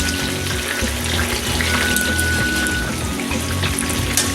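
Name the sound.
steak searing in a pan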